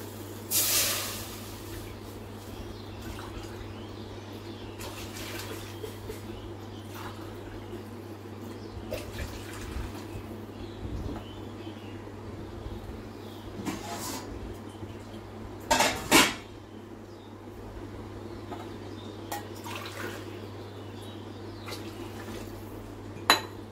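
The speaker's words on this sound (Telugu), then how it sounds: "నాలుగు గ్లాసులు వాటర్ పోసాను." Four glasses of water poured into a hot pan of fried semolina (rava) for a quick sweet, giving a steady hiss and sizzle with occasional metallic clinks of the pan, no talking.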